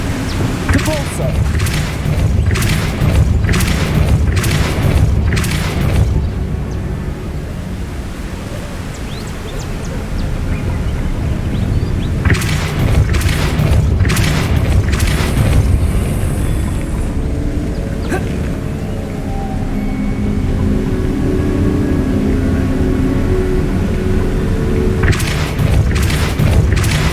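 The Depulso spell booming in Hogwarts Legacy, a rapid run of loud blasts at the start followed by more bursts later, among game sounds with a voice casting spells.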